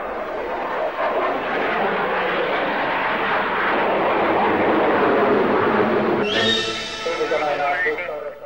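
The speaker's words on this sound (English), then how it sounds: "An interesting display was put on by a Singleton aircraft." An aircraft flies at an air display, a broad roaring wash of engine noise that swells and holds, then shifts to a brighter, higher whine near the end as it passes, no speech heard.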